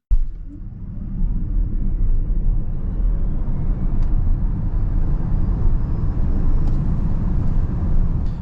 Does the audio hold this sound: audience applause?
no